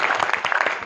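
Audience applause, a brief burst of dense, loud clapping that fills the short moment.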